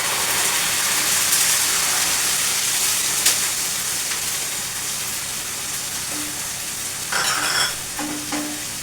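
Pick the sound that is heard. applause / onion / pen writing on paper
onion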